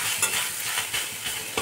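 Grated coconut frying on low heat in a pan, a soft continuous sizzle with gentle stirring scrapes, close and steady, brief with no talk.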